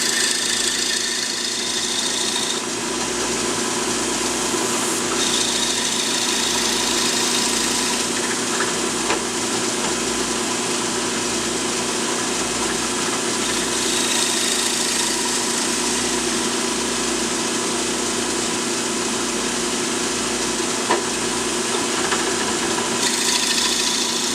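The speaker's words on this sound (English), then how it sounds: "I have to sink this drill bit all the way down." A drill bit bores deep into a wooden knife handle, giving a steady, continuous grinding rasp up close that runs for the whole stretch, with no speech over it.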